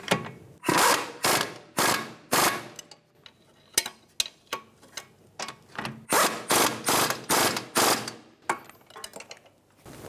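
A ratchet snugs the lower shock bolts on a front strut of a 2010-2015 Lexus RX350, giving repeated bursts of rapid, close clicking in short strokes separated by brief pauses.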